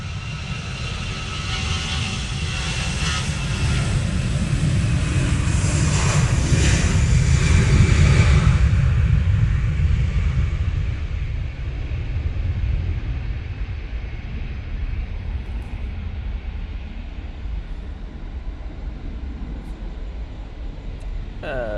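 EasyJet airliner on its takeoff roll at Manchester Airport in wet, windy weather: a loud, broad engine roar builds to a peak, then fades into a steady distant rumble under wind noise.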